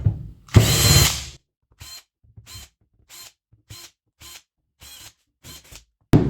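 Screws are being removed from a Chromebook in a series of short, evenly spaced power-driver bursts, close and fairly loud, each whirring briefly before quiet gaps. A louder, longer burst comes early on.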